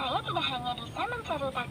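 A grey Tom cat talking toy speaks in a high, chirpy electronic voice, continuous short phrases close up and clear.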